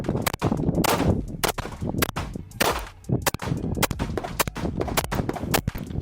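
Rapid gunfire from 2011-pattern pistols, a TWC Hex and a ported Springfield Prodigy, a string of sharp, loud, concussive shots in quick irregular bursts at a range, close up, with no talking.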